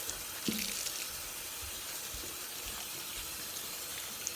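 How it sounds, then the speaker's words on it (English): Water running steadily to rinse shampoo out of a lace frontal wig, a soft continuous splashing hiss with a few faint knocks, fairly quiet and close. "basically wash the shampoo out the hair"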